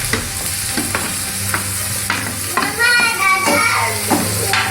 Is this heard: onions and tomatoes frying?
yes